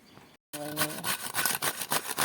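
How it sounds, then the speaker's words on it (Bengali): Pointed gourd (potol) is rubbed against a kitchen grater in quick repeated rasping strokes, close and fairly loud, starting after a brief silence. "এটাকে আমি গ্রেট করে নেব এতে এই পাশটা দিয়ে গ্রেট করে তারপরে দেখাচ্ছি"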